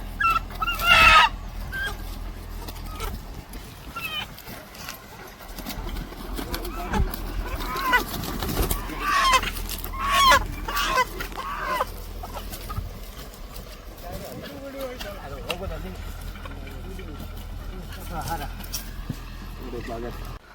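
Village chickens in Kundapura cluck and call now and then, with a rooster-like cry among them, while people talk steadily close by.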